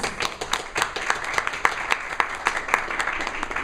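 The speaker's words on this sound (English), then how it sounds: "Please let's give that a round of applause" Attendees at a Toastmasters communication workshop give a round of applause, a steady patter of many hands clapping together, fairly close and continuous for several seconds.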